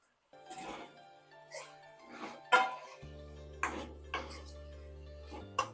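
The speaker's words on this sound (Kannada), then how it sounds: "ಈಗ ಫ್ರೈ ಮಾಡ್ಕೊಂಡಿರೋ ಪನ್ನೀರ್ನ ಇದ್ರೊಳಗೆ ಹಾಕಬೇಕು." Fried paneer pieces tipped into a sizzling sauce base in a pan for restaurant-style Paneer Manchurian, giving a run of sharp clinks and taps of metal against the pan over a steady low cooking hum.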